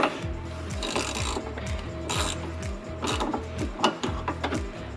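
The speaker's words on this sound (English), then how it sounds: "so you can actually just use the ratchet" Ratchet spinning a stud during a budget OEM-parts lift on a Jeep Wrangler JL, a rapid run of clicking pawl ticks in steady bursts with a few louder metallic knocks close by.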